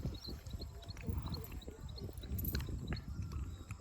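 Hooves of a pure-bred Kathiyawadi mare clip-clop in a steady walking rhythm at close range, with voices talking over them throughout.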